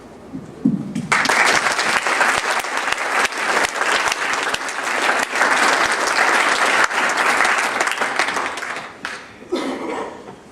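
Audience applause at the 2014 Southwest Ohio GiveCamp closing ceremony, a loud, steady crowd clapping that starts abruptly after a brief voice, holds for about nine seconds, then tapers off.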